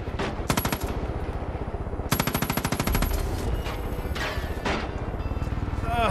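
Loud, sustained enemy machine-gun fire in the video game Far Cry 5, with rapid automatic bursts close by that nearly fill the whole stretch, broken only by brief gaps between volleys.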